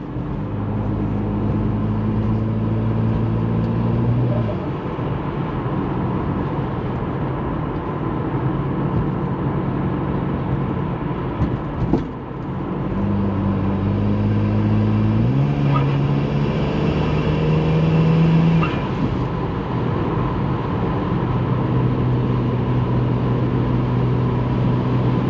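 A turbocharged BMW 135i with an N54 engine drones loudly and steadily, its pitch climbing through gear changes with brief dips as it shifts, sustained throughout.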